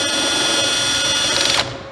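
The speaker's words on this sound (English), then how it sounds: "Using a drill adapter, you insert into the side of the vise and simply back the jaws out." A power drill fitted with an adapter backs out the jaws of a modular workholding vise, giving a steady high whine that runs for about a second and a half before spinning down and stopping.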